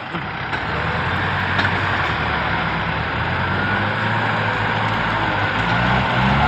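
A tractor engine runs steadily while clearing land to prepare ground for planting durian, a continuous loud rumbling drone close by with no talking.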